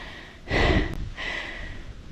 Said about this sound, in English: Can you guys hear me breathing heavily enough?